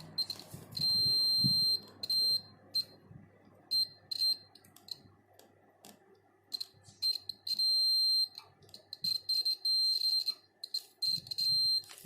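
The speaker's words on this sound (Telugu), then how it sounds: "బీప్ సౌండ్ అనేది వస్తుంది" A multimeter beeps during continuity testing of an LED bulb circuit's transformer, giving several repeated sharp high beeps, some long and some short, close and fairly clear over faint background noise.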